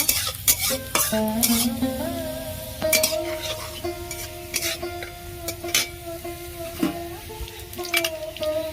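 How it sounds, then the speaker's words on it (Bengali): Oil sizzles in a pan as a Bengali bean paste dish fries, with repeated metal spatula scrapes and clinks against the pan over a steady hiss. "লাল লাল করে ভেজে নেব"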